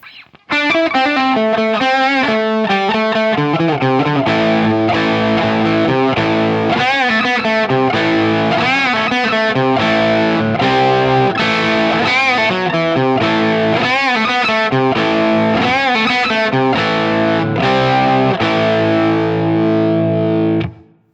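Distorted electric guitar plays a rhythm riff, loud and close, a continuous run of chugging notes and chords with bends that repeats and rings out at the end.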